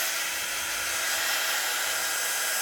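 A hair dryer blows steadily and loudly on a spray-painted paper bag page, a constant high airy roar with no breaks and no talk.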